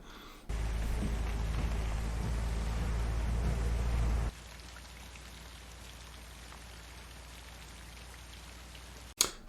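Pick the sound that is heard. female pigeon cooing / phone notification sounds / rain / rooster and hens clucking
rain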